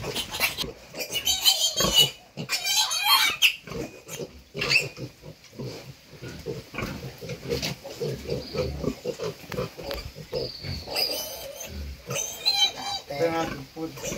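Young pigs grunting and squealing on a farm during vaccination, a busy run of close, overlapping snorts and squeals with people talking throughout.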